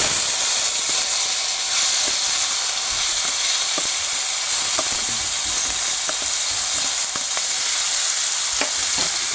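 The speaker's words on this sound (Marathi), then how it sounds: "आता आपण त्याच्यात टोमॅटो कढीपत्ता टाकू आणि वरून हळद टाकू" Tomatoes, curry leaves and turmeric sizzle loudly in a hot pan, a constant dense hiss and crackle with occasional sharp pops, close up and without any talking.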